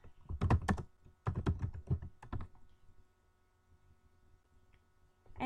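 Search terms are typed on a computer keyboard in two quick bursts of close, crisp keystrokes, then a few scattered taps and a quiet pause.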